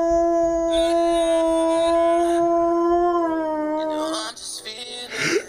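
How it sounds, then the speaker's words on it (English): A dog howls in long, sustained, wavering tones close by, loud and continuous, then breaks into a few short yips and barks near the end. "Hey, don't bark."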